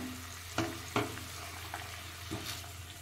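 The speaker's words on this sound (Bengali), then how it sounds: "ভালো করে কষিয়ে নেব।" Broccoli frying and being stirred in a pan, with a faint steady sizzle and a few sharp scraping strokes of a spoon against the pan, fairly quiet and with no voices.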